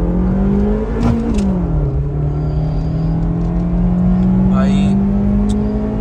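Two fourth-generation Honda City cars launch side by side in a drag race, a loud steady engine drone rising in pitch with revs throughout, a brief dip near one second, and voices talking over it.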